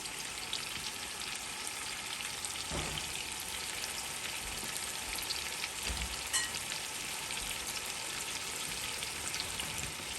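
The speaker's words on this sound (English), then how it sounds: "So now that the fish is in the pot, we want to cook it on both sides" Seasoned fish frying in a pot for a Guyanese fish soup gives a steady, dense sizzle with a few soft pops, close and even throughout, with no voices.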